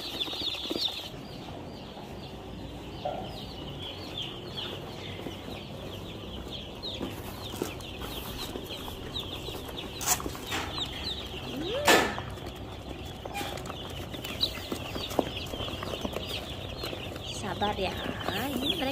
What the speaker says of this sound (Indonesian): Ini dia anak ayam.